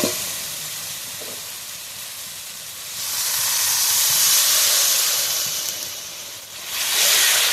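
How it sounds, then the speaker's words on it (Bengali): Water poured into spice paste frying in a pan for a bony bhetki fish chorchori, bursting into a loud, steady steam hiss and sizzle that swells midway, dips briefly, then surges again, with no voices. "অল্প একটু জল দিয়ে দেবো, মশলাটা যাতে না পুড়ে যায়।"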